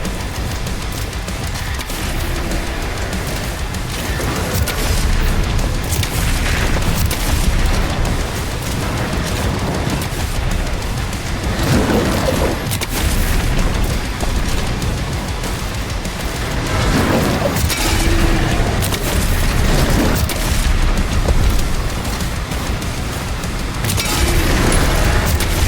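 Shotgun blasts in the video game DOOM: The Dark Ages, heavy booming shots fired repeatedly throughout amid dense, loud battle noise and rumbling explosions, with no voices.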